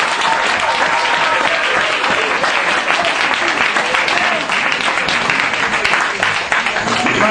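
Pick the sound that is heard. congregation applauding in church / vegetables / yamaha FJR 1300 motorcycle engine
congregation applauding in church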